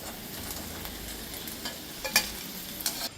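Food frying in oil in a pan gives a steady, close sizzle, with a few sharp spatters and utensil clinks near the end.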